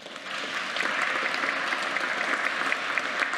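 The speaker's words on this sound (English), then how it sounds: "I hope you can hear the applause where you are." Audience applause after a talk on scenario planning for Plymouth 2040, a steady patter of many hands clapping, heard faintly and somewhat distant, continuing throughout without speech.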